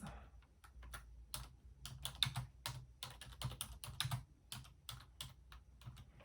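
Rapid, irregular keystrokes on a computer keyboard, close and fairly quiet, with clustered clicks and brief pauses as a short food entry is typed into a meal-planning search box; no one speaks.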